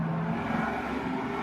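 Trucks driving by outside, a low steady engine rumble and whir heard from some distance, fairly quiet and without voices.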